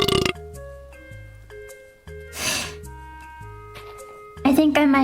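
Several loud burps from a cartoonish character, a long raspy one in the middle and another near the end, over soft electronic music tones.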